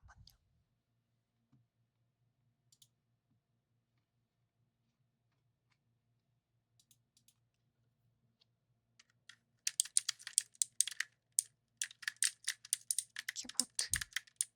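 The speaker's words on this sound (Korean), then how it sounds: "키보드 소리 들려달라고요?" Quick, irregular clatter of keys typed on a computer keyboard, close and fairly loud, starting after a long near-silent stretch with a faint low hum and running in dense bursts to the end.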